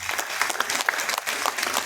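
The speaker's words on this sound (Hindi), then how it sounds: "उनके लिए जोरदार तालियां।" Lively audience applause at a youth achievement awards ceremony held by the Atal Foundation and YCCI, with close, brisk clapping filling the short stretch at steady strength and no talk over it.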